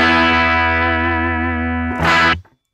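A guitar played through the US Princess amp model on a Line 6 HX Stomp XL, a sustained distorted chord ringing loud and steady, then a brighter strummed burst near the end before it cuts off abruptly.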